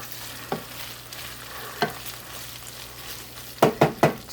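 Taco meat frying in a pan, a soft steady sizzle broken by a few scraping stirs, the last three coming in quick succession.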